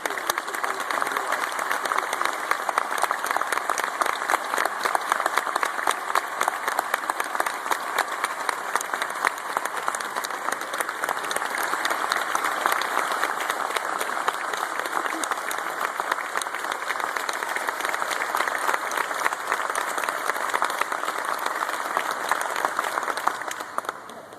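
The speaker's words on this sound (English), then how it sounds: "Can we have a big round of applause for all of our 57 CPAs?" A ceremony audience gives a big round of applause for 57 newly certified CPAs, with dense, steady clapping from many hands sustained for over twenty seconds at an even, fairly loud level.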